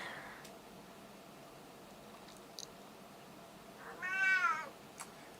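A pet cat gives a single clear meow close by in an otherwise quiet room, preceded by a few faint clicks and soft background hiss.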